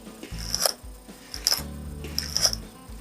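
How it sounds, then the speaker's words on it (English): Snips cutting throttle cable wires on a 1992 Johnson 3hp outboard motor, three sharp metallic clicks spaced about a second apart over a low background hum. "So I need to trim these wires."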